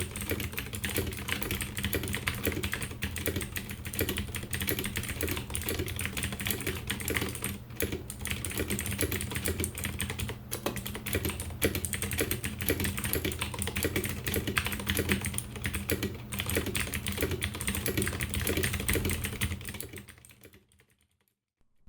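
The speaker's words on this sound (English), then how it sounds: "This particular poker has Cherry MX Blues and is completely stock." Steady, rapid clacking of a stock Vortex Poker 3 mechanical keyboard with clicky Cherry MX Blue switches, close and continuous for about twenty seconds before stopping abruptly, with no voices.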